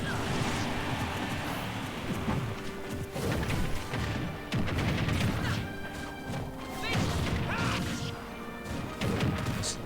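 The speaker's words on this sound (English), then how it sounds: "It's a lot of damage on Plant, getting hit by two forward smashes" Heavy smash hits from forward smashes in Super Smash Bros. Ultimate, landing as repeated loud crashing impacts over continuous game music and effects, with a dense busy mix throughout.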